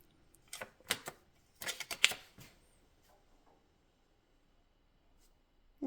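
A Stoewer portable typewriter clacks through a few quick bursts of keystrokes and carriage clatter, close and crisp, then falls quiet with only a faint rustle before one last sharp knock.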